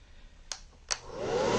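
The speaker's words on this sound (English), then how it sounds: "use the hair dryer again" A hair dryer is used on a model car wrap to age it into a rusty look. Two small clicks come first, then the dryer's airy blowing rises quickly and grows loud and close.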